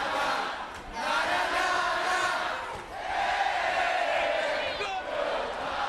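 A wrestling arena crowd at the 2006 Hard Justice pay-per-view roars and chants at Scott Steiner, a loud, swelling mass of yells and bellows that rises and falls in waves.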